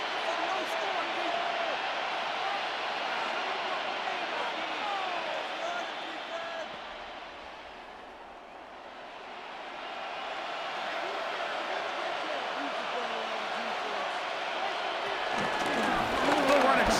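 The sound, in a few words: crowd noise in Madden 26 football video game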